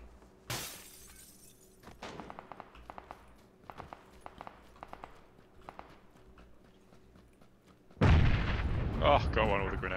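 A grenade blast in the battle-royale shooter PUBG erupts loudly after a run of sharp gunfire pops and clicking in-game sounds, its broad, rumbling burst filling the last couple of seconds.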